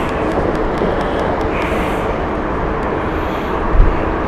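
A TAP Air Portugal Airbus A320 arriving at Heathrow Airport produces a steady, loud, broadband jet engine roar that holds evenly throughout, with no voices heard.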